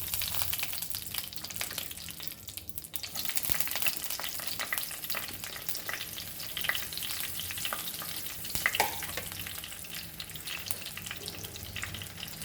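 Curry leaves and bay leaves fry in about two spoons of hot oil for Goan usal, a continuous close sizzle and crackle with occasional louder spits over a steady bubbling hiss.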